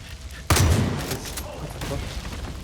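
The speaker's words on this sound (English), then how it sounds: "Just shot the TV, it's fine." A gunshot blasts at close range into a TV in Far Cry 5, one loud sudden report followed by a sustained crackling, rumbling aftermath.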